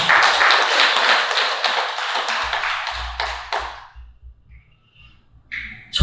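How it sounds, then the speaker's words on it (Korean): An audience claps in a crisp burst of many hands for Prime Minister Hun Sen, tapering off after a few seconds into low rumble and a faint ping, with a short clap-like sound at the end. "우리 훈센 수상을 위해서 박수 한번 보내주십시오."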